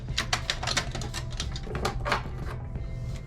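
A screwdriver works the heatsink clamp screws of a PS3 Fat CECHG01 console, giving quick, close clicking and ratcheting taps in an irregular run over a low steady hum, with no talk.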